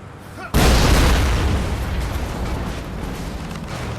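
A sudden loud blast erupts in The Saboteur as a dish is destroyed, a sharp onset at about half a second followed by a heavy roaring rumble that slowly decays over several seconds.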